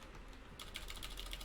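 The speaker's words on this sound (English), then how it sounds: "My keyboard really does not like typing 2 today." Rapid computer keyboard typing with dense, irregular key clicks that grow busier partway through, close and fairly quiet, set during an online tabletop game session.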